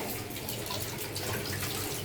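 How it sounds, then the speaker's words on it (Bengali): Water running from a tap into a container to soak frozen beef tripe in a home kitchen, a steady close splashing flow that continues evenly throughout with no talk. "পানি ভিজে দিচ্ছি সুন্দর করে"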